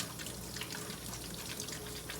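Warm tap water runs steadily into a sink for hand washing, a continuous soft splashing hiss with no voices over it.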